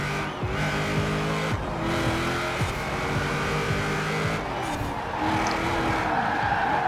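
A stock car being driven in Forza Horizon 4, its engine droning steadily with gear shifts and tire noise throughout, loud and continuous with no voices.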